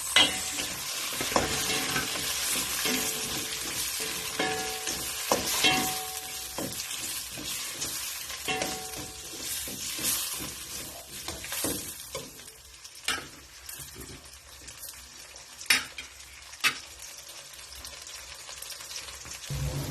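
Garlic, onion and tomato sauté in a pan as the base for pork sinigang, crackling and sputtering close by while a utensil scrapes and stirs in irregular strokes, with no voices.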